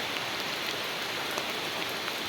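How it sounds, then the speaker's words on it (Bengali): Rain pours steadily all around, a dense close hiss with scattered drops pattering nearby, recorded outdoors on a wet mobile phone by a lake; no one speaks. "আমি বৃষ্টি অবস্থায় ভিডিও করছি, আমার মোবাইলও ভিজছে"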